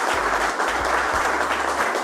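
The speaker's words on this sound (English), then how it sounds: "So how about a big round of applause for Bob?" Crowd applause at a Flex polisher class during a detailing festival, a sustained wash of clapping from many hands lasting a couple of seconds, with faint low rumbles beneath and no voices.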